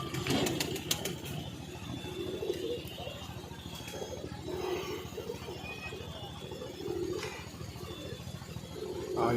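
A pigeon coos softly at a distance in an outdoor setting, with low repeated cooing phrases and a brief flutter near the start, sitting under background noise and some faint voices.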